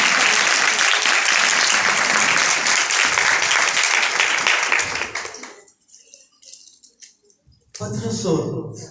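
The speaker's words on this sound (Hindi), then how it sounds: "नाम के लिए जोरदार तालियां चाहिए" A church congregation at a Sunday service bursts into loud, sustained applause that fades after about five seconds into near silence, with a few scattered claps and a resuming voice at the end.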